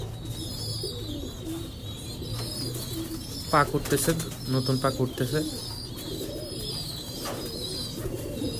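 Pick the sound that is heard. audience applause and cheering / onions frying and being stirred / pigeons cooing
pigeons cooing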